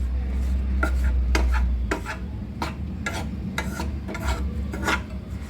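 Besan roasting in ghee in a pan, stirred steadily to break up lumps: repeated scraping, rasping strokes of a spatula against the pan in an uneven rhythm, close and fairly loud, with no talking.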